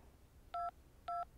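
Cell phone keypad dialing tones in the video game Syberia 2, two short clean dual-tone beeps spaced about half a second apart over a faint background hum, with no talk.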